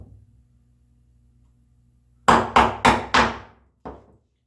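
Five sharp mallet blows on a chisel chopping into walnut joinery for a hand-tool bookcase, four in a quick close cluster and a quieter fifth after a pause, all in a quiet workshop.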